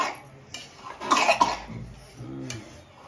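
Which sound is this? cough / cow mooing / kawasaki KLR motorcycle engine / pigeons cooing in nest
cough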